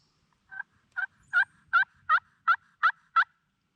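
A wild turkey gobbles from a creek bottom during a spring hunt, eight sharp, evenly spaced gobble bursts rolling out at a steady pace, clear and fairly close over a quiet background.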